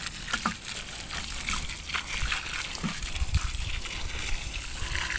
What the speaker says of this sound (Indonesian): kita siram ya, biar supaya ada modal